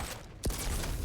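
A railgun shot in a Quake match: a single sharp, sweeping zap cuts through a constant wash of game noise, brief and fairly loud against the busy background.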